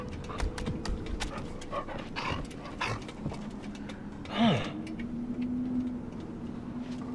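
A dog pants softly in the video game Until Dawn, quick breaths over quiet ambient game sounds with scattered clicks and a brief whimper-like tone near the end.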